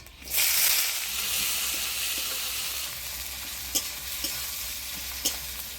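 Chopped onion frying in oil with whole garam masala, bay leaf and dried red chilies, a loud continuous sizzle close by with a few light clicks of a stirring spoon, no voices.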